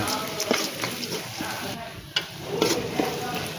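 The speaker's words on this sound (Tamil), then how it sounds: "மஞ்சள்தூள் போட்டு நல்லா கிண்டி விட்டுருங்க" Turmeric stirred into shallots frying in a pan: a continuous sizzle with repeated scraping strokes of the spoon at an irregular rhythm, close and moderately loud.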